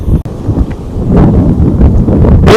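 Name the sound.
strong sea wind blowing on a beach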